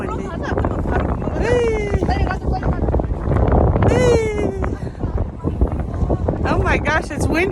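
Strong wind buffets the microphone on the Gatlinburg Sky Bridge, a continuous rumbling roar with gusts throughout, while people talk and exclaim over it.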